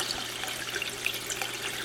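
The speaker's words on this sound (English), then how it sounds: "it will spit water and air, as you'll see here." An Aqualifter pump spitting out a mix of mostly air with occasional water, giving a steady close hiss and splutter of sputtering liquid with no talk over it.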